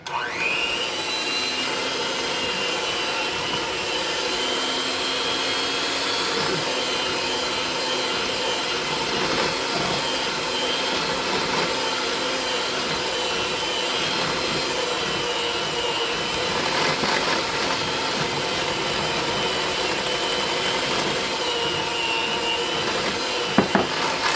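A steady, loud mixer motor whirs continuously as all-purpose flour is worked into chocolate chip cookie dough, with slight strain changes and no talk.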